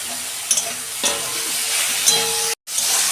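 Fish oil hitting eggplant and onion already frying in a pan sizzles steadily and close, with a few soft stirring scrapes and a brief drop to silence near the end.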